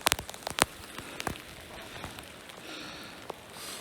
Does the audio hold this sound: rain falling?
yes